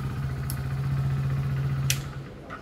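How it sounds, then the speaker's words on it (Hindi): A Hero Splendor Plus Xtec 2.0 motorcycle engine runs at idle nearby, a steady low humming thrum with a couple of brief sharp clicks, fading slightly at the end. "तो चलिए बाइक को एक बार स्टार्ट करके देख लेते हैं साउंड कैसा आ रहा है"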